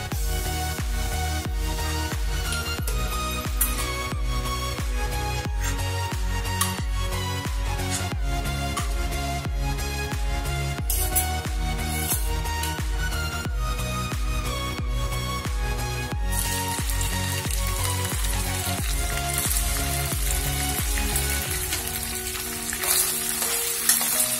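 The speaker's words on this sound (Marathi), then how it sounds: "आता आपण पनीर तळून घेऊया आणि तो पण थोडा लालसर कलर येईस्तोवर होऊ द्यायचा" Paneer cubes fry in hot oil for a Marathi-style veg pulav, giving a steady, close sizzle that runs the whole time under a rhythmic musical backing, with no one talking.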